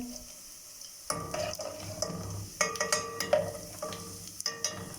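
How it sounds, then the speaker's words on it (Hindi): Cumin seeds crackle and sizzle in hot oil, broken by a series of spoon scrapes and clinks against the pan as they are stirred nearby. "लहसुन हमारा हल्का गोल्डन फ्राई हो गया है। अब हम इसमें ज़ीरा ऐड करेंगे।"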